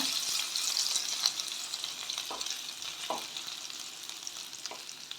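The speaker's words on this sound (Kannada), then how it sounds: "ಹಸಿಮೆಣ್ಸಿಕಾಯನ್ನ ಸೇರಿಸ್ಕೋತಾ ಇದ್ದೀನಿ ನೋಡಿ ಸ್ವಲ್ಪ ಫ್ರೈ ಆಗಬೇಕು ಶುಂಠಿ ಬೆಳ್ಳುಳ್ಳಿ ಎಲ್ಲ" Green chilies, ginger and garlic fry in hot oil in a pan, giving a steady close sizzle with a few soft stirring scrapes, moderately loud and with no voices.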